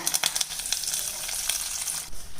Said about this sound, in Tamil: இப்போ இந்த தாளிப்பை பொங்கலோடு சேர்த்துடலாங்க